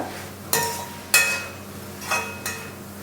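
Chicken noodles are stirred with soy sauce in a pan, giving four separate scraping clanks of a utensil against the pan, spaced about half a second apart, over a quiet background.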